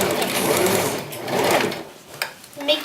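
A sewing machine stitches a fur vest with a close, loud, continuous whirring run that slows and stutters toward the end.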